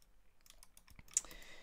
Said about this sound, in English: I'm just going to hit 1 on the keyboard here